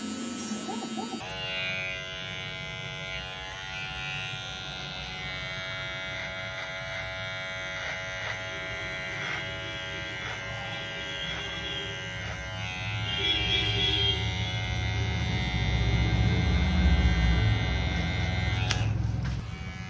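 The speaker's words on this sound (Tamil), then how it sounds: "ஸோ மிஷினோடைய பல்ல லைட்டாக அட்ஜஸ்ட்மெண்ட் பண்ணிட்டு நான் அப்படியே மேலோட்டமாக போடுறேன்." Electric hair clipper giving a military haircut, a steady close buzzing hum running throughout that thickens and grows louder in the later half as the blades work through hair.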